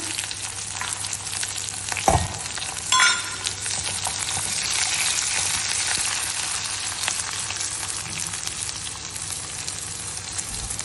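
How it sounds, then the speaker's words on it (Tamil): Finely chopped shallots sizzle steadily in hot oil with mustard seeds and urad dal for a bottle gourd poriyal, a continuous close frying hiss with a sharp clack of a spoon or pan near the start and no talking. "நான் ஒரு 10 சாம்பார் வெங்காயம் பொடியா கட் பண்ணி வச்சிருக்கேன், அதை சேர்த்துக்கலாம்."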